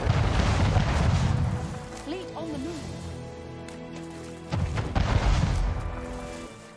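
Ship cannon fire in the Anno 1800 video game comes as heavy booming blasts at the start and again near the end, with a quieter stretch of game tones and a voice speaking between them.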